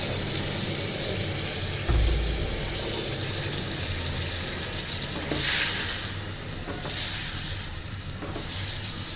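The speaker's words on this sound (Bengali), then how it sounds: "নারিকেলের এভাবে দুধটা দিয়ে দিচ্ছি অল্প একটু কিছু কষানোর জন্য" Coconut milk poured into an egg korma hisses and sizzles in a hot pan, a steady close frying hiss with a low thump near the start and a few louder bursts of sizzle later.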